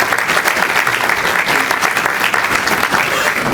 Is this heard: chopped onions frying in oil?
no